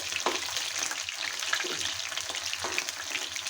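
Chicken sizzles in a frying pan after being flipped, a steady close crackle and hiss with a few louder spattering pops, heard on its own without talking.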